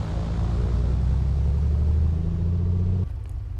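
A Piper Comanche piston engine in a flight simulator runs as the propeller is cycled, giving a steady, loud, close rumbling drone with a low tone that shifts pitch, then cuts abruptly to a quieter hum near the end.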